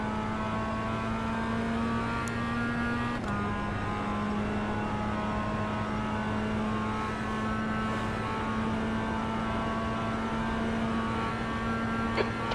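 Race cars in a racing video game drone steadily with a sustained engine tone held throughout, one brief shift partway through, loud and continuous with no talk.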